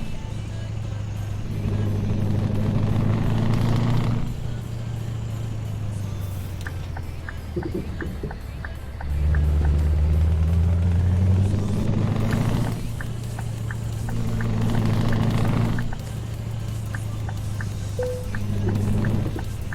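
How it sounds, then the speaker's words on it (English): Scania 143 truck in Euro Truck Simulator with ProMods, its deep diesel engine droning close and loud, rising and falling through repeated gear changes and revs with a clicking indicator ticking in places, no talk heard. "That sound is awesome. Yeah, that's the Scania 143 for you, mate."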